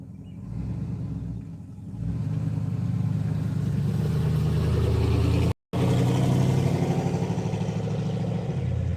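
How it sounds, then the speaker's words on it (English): A car approaches and passes close by at a fire call scene, a steady engine rumble and tire roar swelling over several seconds, briefly cutting out, then continuing loud with no talk. "Doesn't help that there's a car coming up on my left right now"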